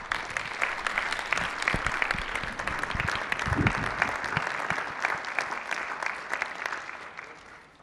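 Sustained applause fills the Arizona House of Representatives chamber as members welcome a visiting Azerbaijani envoy. The steady, dense clapping holds at an even level for several seconds, then tapers off at the end.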